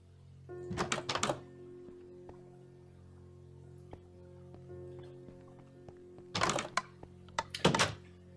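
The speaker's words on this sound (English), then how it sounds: "I would like to show you my shuffling machine." Homemade card shuffling machine for a blackjack table running, with a low steady motor hum under two bursts of rapid clattering card flicks and thunks, close and fairly quiet.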